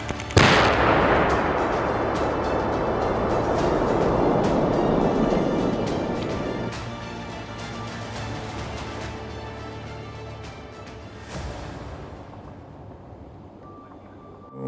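A powerful explosion from a charge destroying munitions in place bursts at the start, its rumble and scattering debris noise rolling on for seconds, followed by a second smaller bang later.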